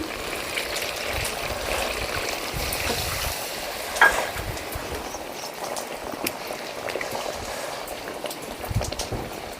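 Water poured into a spiced chicken curry on a wood-fired stove keeps up a steady, close bubbling hiss, much like rain, with one brief knock partway through.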